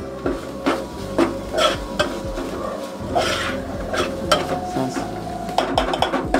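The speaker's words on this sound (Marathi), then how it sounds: "आता चांगला तो भाजून घेते, कांद्यामध्ये परतून घेते" Dried shrimp (jawla) is stirred and sautéed with onions in a pan for a Malvani jackfruit dish, with repeated scraping and clinking of a spatula against the pan over a steady frying hiss, close and loud, with no talking.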